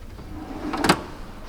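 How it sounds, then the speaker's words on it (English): A workshop drawer of vise grips slides open in one short rumbling scrape with a rattle of metal tools, quick and close, no talk. "Vice grip drawer."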